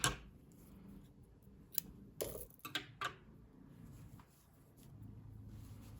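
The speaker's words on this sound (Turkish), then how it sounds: "İpliği kesiyorum." A few crisp scissor snips as crochet yarn is cut after finishing a baby sweater vest, short sharp clicks clustered near the middle over a low room background, close and fairly quiet.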